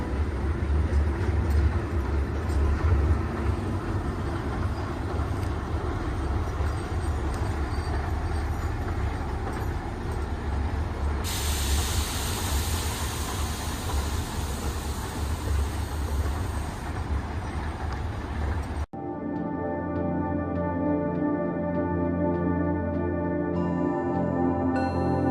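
A train rumbles steadily into a small-line railway station for about nineteen seconds, loud and continuous, then the sound cuts abruptly to a quieter tonal passage.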